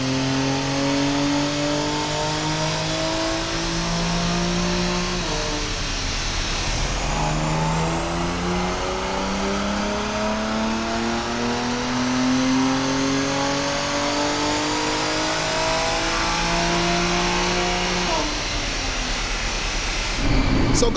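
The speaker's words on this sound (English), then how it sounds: "all he's going to do is run the car for a little bit to get up to temp before running a few official" B58-swapped BMW M2 Competition on a dyno, its engine droning steadily and sweeping up through the gears in long repeated pulls, loud and close, with no talking over it.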